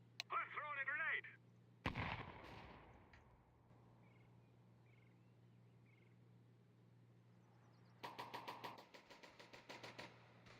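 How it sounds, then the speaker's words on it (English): A grenade goes off in a video game as one sharp, loud blast that fades into a rumble, later followed by rapid bursts of gunfire; a voice speaks briefly at the start. "I'm throwing a grenade."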